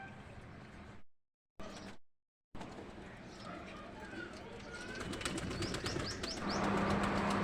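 Pet pigeons bathing in a water container flap and splash, with rustling wing beats and light thumps through the clip after a couple of short dropouts, faint and close, with a few bird calls.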